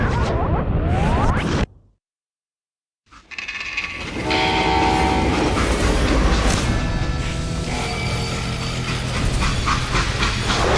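A train rolls along in the Western shooter Call of Juarez: Gunslinger, with loud clattering wagons and a sustained horn-like whistle tone, broken by about a second of total silence before the rumbling returns strongly.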